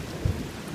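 Thunderstorm rolling past a back-yard screen porch, a low distant rumble of thunder under a steady soft wash of rain, with a couple of faint deeper thumps.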